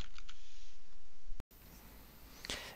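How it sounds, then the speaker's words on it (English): Keys clack on a mechanical keyboard, heard through a gaming headset microphone in a few quick clicks, then a brief dropout and a louder burst of key presses near the end. "this is how it sounds when I'm typing on mechanical keyboard"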